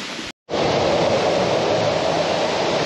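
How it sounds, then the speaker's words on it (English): Loud, continuous rushing of water cascading down a wet mountainside in the Mürren area, a dense broadband roar broken only by a very brief cut near the start. "There's so much water running down the mountain."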